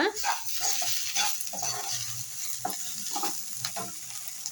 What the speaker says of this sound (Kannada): ನೋಡಿ ಇವಾಗ ಚೆನ್ನಾಗಿ ಫ್ರೈ ಆಗ್ತಾ ಇದೆ